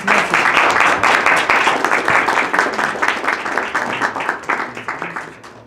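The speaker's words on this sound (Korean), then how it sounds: "연사분들께 큰 박수 부탁드리겠습니다" An audience at an AI forum talk applauds the speakers with dense, loud clapping that gradually thins and fades out over several seconds.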